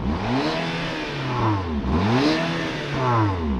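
Polestar 1 hybrid engine and exhaust revving from outside the car, three rising-and-falling blips in quick succession, close and fairly loud.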